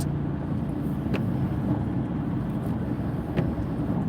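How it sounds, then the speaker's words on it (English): A loud diesel vehicle engine rumbles in flooded city traffic, a steady, close roar that holds throughout with a jet-like whoosh and no talk over it. "Ooh, that's a diesel. You can hear that thing. Sounds like a jet."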